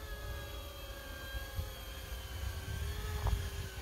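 Electric multirotor motors of a V-22 Osprey model aircraft hovering, with an extra motor spinning in the tail, give a steady whirring drone with high tonal whine lines, close and continuous with slight swells.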